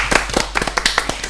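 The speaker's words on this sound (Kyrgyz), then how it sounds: "Мариямга кол чаап коелу" An audience at a Bishkek blogger show gives a short burst of about ten sharp, quick handclaps, close and fairly loud.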